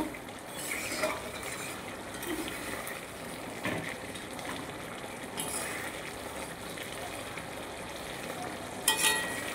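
Spiced egg dish with garam masala frying in a pan, a continuous soft sizzle with a few light stirring scrapes and a brief sharp clink near the end, close by.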